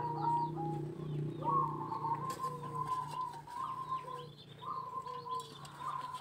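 Zebra doves coo repeatedly in soft, rolling phrases, several birds overlapping at moderate distance with a steady low hum underneath.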